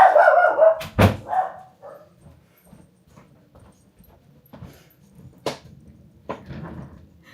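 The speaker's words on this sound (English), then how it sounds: "She barks a lot. She barks for everything" A dog barks in a quiet room: a couple of sharp, close barks near the start, then scattered single barks and soft whimpering sounds spaced over the following seconds with near silence between.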